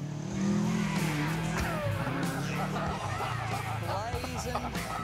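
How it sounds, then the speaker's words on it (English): A rally car slides sideways on a gravel forest track, its engine roaring with a scrabbling, skidding rasp. Someone talks over it as the car noise fades. "the sweet sound of a sidewards rally car"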